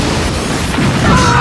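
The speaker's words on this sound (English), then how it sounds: "when Maureen detonates, the explosives Jack and the whole ship go off" Explosives detonating as a ship blows up, a loud, sustained low boom and rumble that swells slightly toward the end, with no voices.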